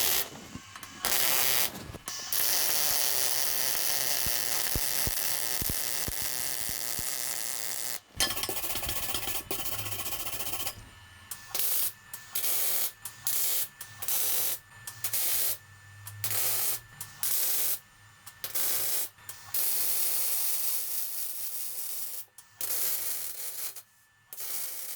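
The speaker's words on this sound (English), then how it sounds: "weld those two pieces together." Welding two steel beam pieces together for a handrail, a loud crackling hiss that runs steadily, then breaks into many short bursts separated by brief gaps.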